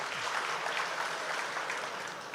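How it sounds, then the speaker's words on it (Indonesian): Applause from an audience at a Central Java governor's address to university representatives, a steady even wash of many hands clapping that fills the whole moment at moderate level. "Tepuk tangan untuk Bapak Ibu sekalian."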